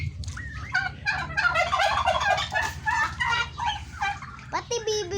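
A turkey gobbling: loud, rapid, warbling calls repeat one after another, close up and near-continuous, with faint background noise and no clear talking.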